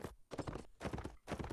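Horse hooves clip-clopping in the video game Mount & Blade Warband, a quick, even trotting patter of repeated hoof strikes, faint and steady across the short stretch with no talk over it.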